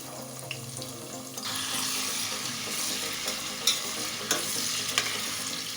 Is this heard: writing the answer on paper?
no